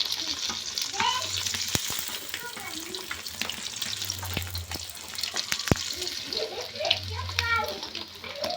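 Pieces of fish fry in hot oil with a dense, continuous sizzle and bubbling, broken by sharp clinks and scrapes as the fried pieces are lifted out of the pan.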